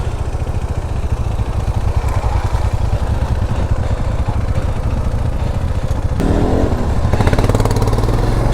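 Two NS motorcycles, each carrying two riders, rumble steadily on an off-road trail near a shallow stream around Mandalpatti, with a continuous mid-pitched engine drone that grows louder and rougher toward the end.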